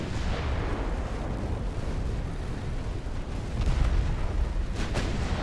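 Naval battle in the video game Ultimate Admiral Dreadnoughts, with battleships and light cruisers firing: a dense, continuous rumble of heavy gunfire and explosions that swells with louder booms partway through.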